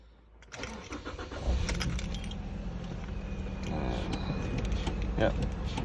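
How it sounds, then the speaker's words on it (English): A 2007 Ford C-Max engine cranks and starts in a garage after front disc and pad work, settling into a steady near idle, with keys jangling at the start. "Start your car up."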